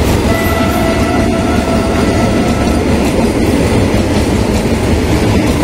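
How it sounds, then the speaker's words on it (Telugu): The Tirupati Vande Bharat express, train 20701, crosses very close by in a loud, unbroken rumble of rolling wheels and rattling carriages, with a faint metallic whine on top. "వందే భారత్ క్రాసింగ్ అనమాట ఇప్పుడైతే, తిరుపతి వందే భారత్."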